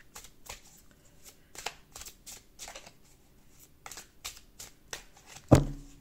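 A tarot deck is shuffled by hand, a quiet run of short riffling flutters at an irregular rhythm, ending in one sharp slap as the deck is cut.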